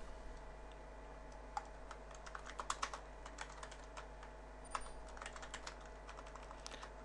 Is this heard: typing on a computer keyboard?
yes